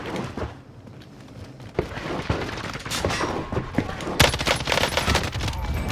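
Bursts of gunfire in Warzone, scattered shots at first and then a loud, dense volley near the end, mixed with clatter and game effects.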